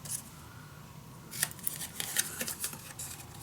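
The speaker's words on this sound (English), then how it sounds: "Then I'm just gonna cut this one." Scissors snip through paper for a scrapbook pocket page in a few quick, faint cuts close by, with soft paper rustle between.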